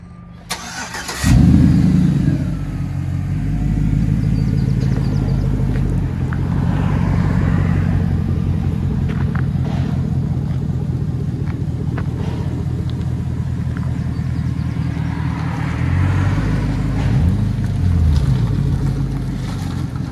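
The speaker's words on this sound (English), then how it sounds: "2007 Chevy Silverado." A 2007 Chevy Silverado with a 5.3L V8 fires up, then settles into a steady, deep, rumbling idle that holds loud and close for the remainder.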